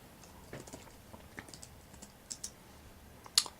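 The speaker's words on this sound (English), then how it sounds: "I'm not even sure I can type like this" Keys on an Acer Aspire V5-531 laptop keyboard are tapped in a sparse, irregular run of light, close clicks, with a sharper keystroke near the end.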